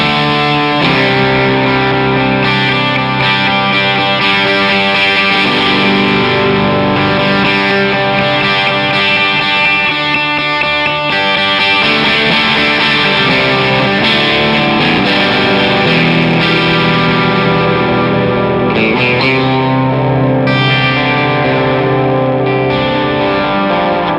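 Heavy distorted electric guitar run through two stacked analog effects pedals, ringing sustained chords with a thick, saturated tone and slight chorus shimmer, loud and continuous for the whole stretch with no talking.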